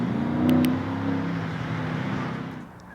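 A Mercedes-Benz S65 AMG engine fires up and settles into a steady, fairly loud running note with a bit of rev at the start, close by and without talk.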